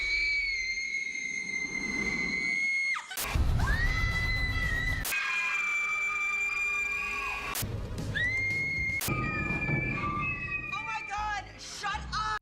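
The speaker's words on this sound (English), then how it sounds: "Who else thinks Emma Roberts' screams are low-key cringy? It sounds really whiny" Actress Emma Roberts lets out several long, high-pitched horror-movie screams in a row, each one wavering and sharp, broken up by abrupt cuts between takes.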